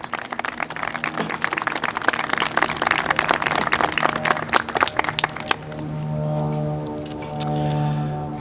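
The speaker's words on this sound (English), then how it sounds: "Please give Devin and his family a round of applause." Audience applause at a high school military ceremony, dense crowd clapping for about five seconds before fading into a low sustained tone and murmuring.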